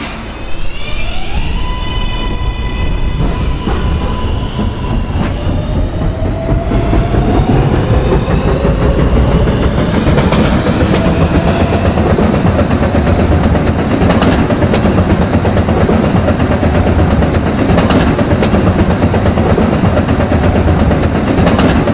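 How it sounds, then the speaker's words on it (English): An R143 subway train runs in the Roblox game PTA Subway, whining as it accelerates with rising motor tones, then settling into a loud, steady rumble with rhythmic clickety-clack over the rails. "This is a Potato Burg bound Q Express train."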